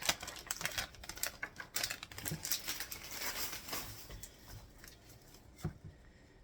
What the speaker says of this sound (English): dice it up very small